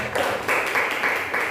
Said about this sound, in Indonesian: Tepuk tangan buat firman Tuhan.